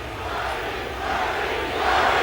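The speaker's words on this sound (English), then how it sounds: "They're now shouting, "Bernie, Bernie," obviously in support of Bernie Sanders" A large crowd of protesters at a Trump protest shouts 'Bernie' in support of Bernie Sanders, heard as a steady, loud wash of many voices that swells slightly toward the end.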